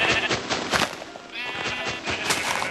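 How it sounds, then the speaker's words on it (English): Minecraft sheep bleating repeatedly in quick, loud, close calls that overlap one another, with faint game noise between bleats. "Oh, look at these poor sheep."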